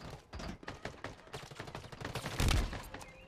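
Pistol fire crackles in a chaotic video game skirmish, a rapid, faint stream of small pops and bursts with one heavier thump near the end, all fairly distant and low in level.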